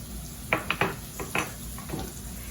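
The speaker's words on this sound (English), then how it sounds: "We just stir the flour around." Flour is stirred into onions and peppers in a cooking pan with a spoon, giving a few scattered scraping clinks and taps against the metal over a low background hum.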